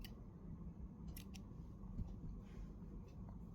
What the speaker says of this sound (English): Now I'll just cut the yarn from the bottom first